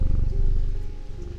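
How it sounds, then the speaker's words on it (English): A cat's low, steady rumbling purr, close and continuous, with a faint higher tone drifting in over it. "It is purring and taking over."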